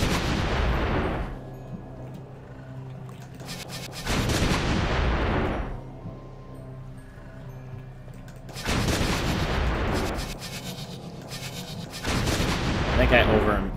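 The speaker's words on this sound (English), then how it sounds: "I get the last one by lifting this cannon up a ways. And then firing at it." Booming shots from a cannon in the video game Soul Axiom, three loud blasts that each ring out and decay over a second or two, spaced apart with quieter gaps between.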